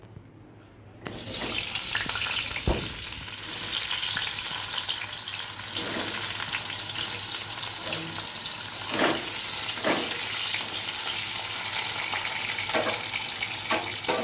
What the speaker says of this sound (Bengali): এখন আমি আলুগুলোকে ভেজে নিচ্ছি